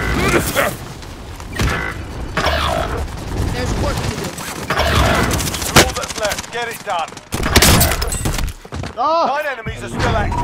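Gunfire in a shooter video game, with loud bursts of automatic fire and single shots over a busy mix of thuds and effects, while voices call out and talk over the shooting.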